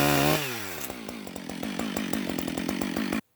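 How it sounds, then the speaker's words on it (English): A chainsaw revs up and bites into a log, cutting freehand to make a 2x4, its engine droning steadily and loudly for a few seconds before cutting off abruptly. "try cutting whatever lumber I can freehand with the chainsaw"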